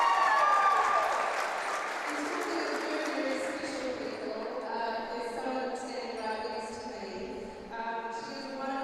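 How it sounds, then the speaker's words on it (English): A crowd applauds at the 2024 New Zealand women's ice hockey gold medal game between Auckland Steel and Canterbury Inferno, loudest at the start and then tapering under steady arena sound. "So a big round of applause there now for Jan"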